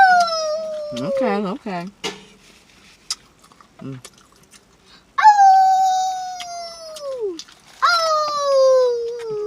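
A dog howls like a wolf, first in short whimpering yips, then in two long, loud, falling howls close by, with a brief word of human speech between them.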